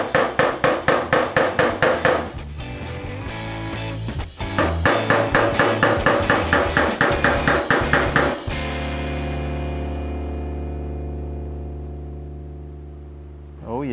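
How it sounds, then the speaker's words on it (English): Rapid, steady hammer taps on sheet metal of a Model A car trunk lid, knocking down high spots with the pointed end of the hammer; two long runs of sharp ringing blows with a brief pause, then a fading metallic ring. "Hitting them with the pointed end of the hammer"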